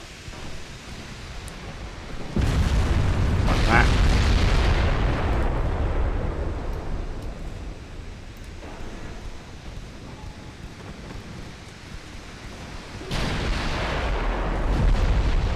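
Naval guns booming in the video game Shipyard Champions, loud rumbling blasts around two seconds in and again near the end, with sustained heavy low roar between.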